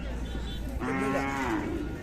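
Cattle at a livestock fair where Khillar bulls and cows are sold: one close, drawn-out moo rises over the steady murmur of the fairground crowd.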